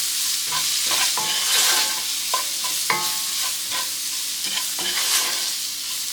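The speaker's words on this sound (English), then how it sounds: "I'm gonna cook this for about 4 or 5 minutes until the onions are translucent and the spices are starting to stick to the pan." Onions frying in a pan with curry powder and garam masala, a steady close sizzle broken by scattered scraping stirs and soft clicks, with no voices.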